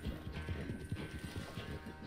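A horse gallops in Red Dead Redemption 2, quick rhythmic hoofbeats thudding close and fairly faint throughout, with no speech.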